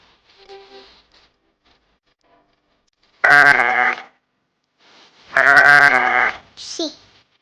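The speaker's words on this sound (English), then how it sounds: "Sheep." Sheep bleat in two loud, drawn-out wavering calls with a short gap between them, clear and close, with faint voice-like sounds at the start and a brief call at the end.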